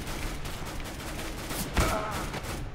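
Fast bursts of weapon fire in CS:GO crackle at close range in quick repeated shots, with one heavier report near the end.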